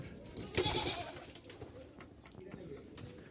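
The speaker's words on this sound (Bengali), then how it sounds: "এখানে দেখেন একটা নর কবুতর, এই যে এক সেট" Pigeons in a rooftop loft where Jalali pigeons are kept give soft, low cooing and rustling close by, faint and intermittent, with a brief louder flutter near the start.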